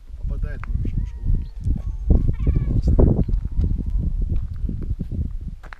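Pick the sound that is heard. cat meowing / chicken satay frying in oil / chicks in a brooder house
cat meowing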